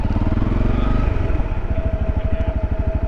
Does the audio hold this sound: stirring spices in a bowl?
no